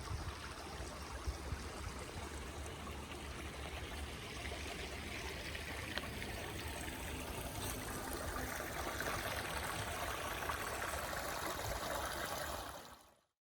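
Water flows at a bend of the Schuylkill River, a steady, continuous stream rush and trickle heard from a nearby bridge, even in loudness throughout with no talking, ending abruptly.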